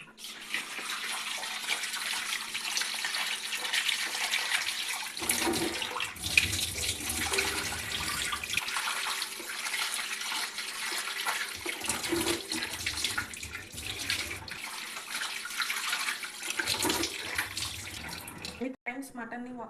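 Tap water runs steadily over half a kilo of mutton being washed in a kitchen, a continuous splashing hiss with a few pauses and changes in flow, and a voice speaks now and then beneath it.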